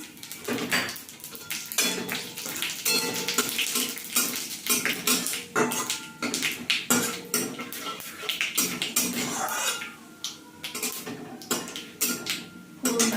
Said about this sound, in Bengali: এখানে পাঁচ ফোড়ন শুকনো লঙ্কা তেজপাতা ফোড়নে দিয়ে দিলাম